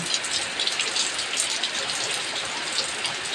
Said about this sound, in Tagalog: It's raining again, again, again, again, again.